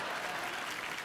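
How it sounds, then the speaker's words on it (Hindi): Loud, dense applause from an audience at a televised comedy and music show, a steady wash of clapping filling the whole short stretch with no voices on top. "इसलिए जोरदार तालियां"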